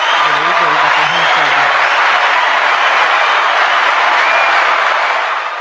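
A hand clap sound effect plays as a loud, dense, continuous wash of clapping that lasts several seconds, with a faint tonal murmur near the start before it tapers slightly at the end.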